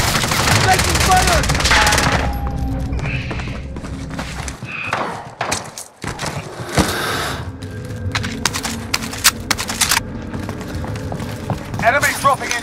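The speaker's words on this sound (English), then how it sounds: "Contact! Contact! Taking fire!" Automatic gunfire fills a Call of Duty Warzone match on Rebirth Island, with dense machine-gun bursts, scattered shots and thuds of varying distance, and voices talking over the shooting.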